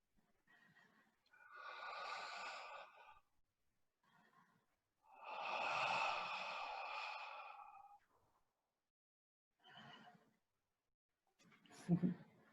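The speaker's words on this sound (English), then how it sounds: "Let's take one final breath together" Two people breathe slowly together in a guided breathing session, two long deep inhales and exhales, close and soft, followed by quieter breaths and a brief sharper sound at the end.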